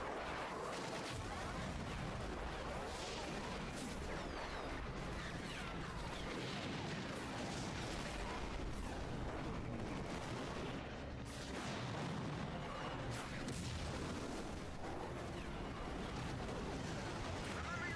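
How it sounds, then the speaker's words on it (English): Airship cannons fire in a Final Fantasy 12 battle, a dense continuous barrage of booms and blasts layered with battle noise and voices throughout. "Give word to the cannons. Make ready and fire."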